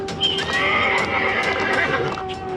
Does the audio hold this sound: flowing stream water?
no